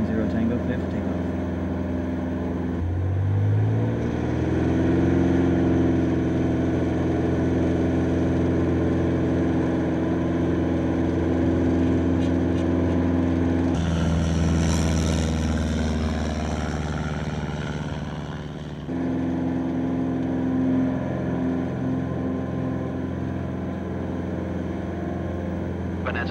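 A Bonanza light airplane takes off from a runway, its piston engine droning loud and steady, rising in pitch and strength as power comes up, with radio voices over the engine.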